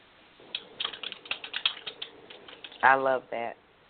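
Rapid keyboard clatter taps along close to the mic, followed by a brief spoken voice at the end.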